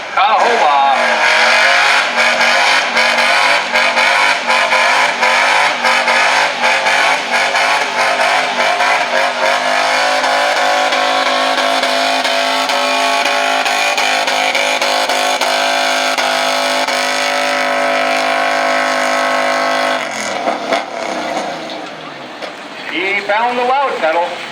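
Pulling truck at a fair truck pull, engine roaring at full throttle in a loud sustained howl for about twenty seconds before backing off, with an announcer talking over the din.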